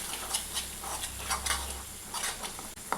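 Garlic chutney ingredients sautéing in oil: a soft, close sizzle broken by rhythmic stirring scrapes, all fairly quiet.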